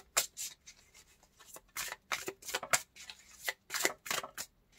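Tarot cards are shuffled close up in quick, uneven bursts of crisp riffling and sliding, each flurry separated by brief pauses, with no talking.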